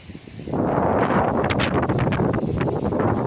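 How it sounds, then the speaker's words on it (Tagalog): Strong wind on a farm lot beside a road in Calauan, Laguna buffets the microphone with a loud, continuous rumbling roar that kicks in after a brief quieter moment and stays steady to the end. "Medyo mahangin po ngayon mga kaprops."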